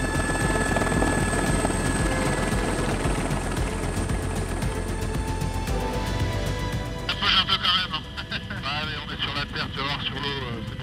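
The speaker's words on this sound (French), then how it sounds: "un hélicoptère à la mise en route au H7 pour un vol prise de vue du côté d'Iroise" A helicopter starting up on a helipad ahead of a photo flight near Iroise during Storm Ciarán gives a loud steady engine drone with a rising turbine whine and faster rotor chopping later. A voice speaks over it toward the end.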